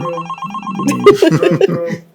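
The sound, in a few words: phone ringing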